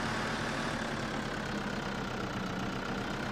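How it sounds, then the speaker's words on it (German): A small tractor engine idling steadily, a continuous low rumbling drone with no breaks, fairly close and alone without talk. "Ein süßer kleiner Fratzer Traktor."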